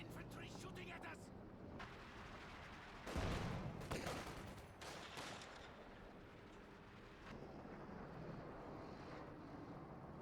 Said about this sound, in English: Infantry shooting at us.